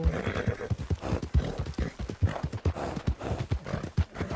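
A horse in the video game Red Dead Redemption 2 gallops with quick, rhythmic hoofbeats close up, and a whinny rises over the hooves partway through.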